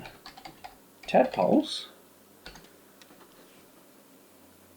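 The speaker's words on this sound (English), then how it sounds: "if we go to Google and we type in AA pod southern" A computer keyboard typing a Google search, light clicking keys scattered through the clip, with a voice speaking briefly over a louder burst in the middle.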